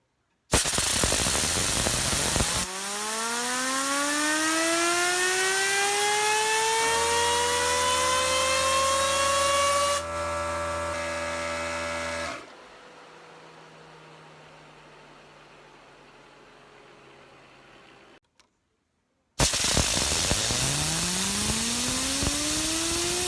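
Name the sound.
WooSah Namaste Elite fidget spinner spinning on its bearing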